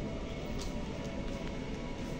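A new MRT metro train carries a steady, loud rumble and whir from inside the carriage, continuous and even with faint higher squeals, no talk heard.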